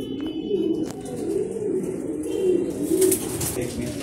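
Racing pigeons in a loft coo in a low, continuous murmur close by, with a few brief chirps and rustles over it and no clear talk.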